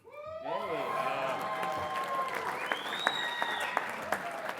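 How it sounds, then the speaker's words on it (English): An awards banquet audience breaks into a sustained round of applause that begins suddenly and holds steady, with a few voices and cheers over the clapping. "this will probably get a round of applause"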